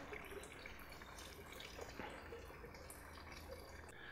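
Hot, thin engine oil dripping from the drain of an Audi S4 3.0T, a steady patter of drops under a constant low background hum with no talk.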